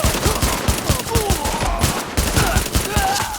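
Rapid automatic gunfire from a shooter game, The Division, fills the clip with dense repeated shots and no breaks, loud and close.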